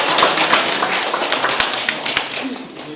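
A church congregation at a Sunday worship service during a retreat breaks into sustained applause of thanks, many hands clapping in a dense, lively patter, close by and steady.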